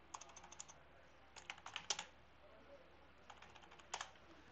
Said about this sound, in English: go on Google and type Chimera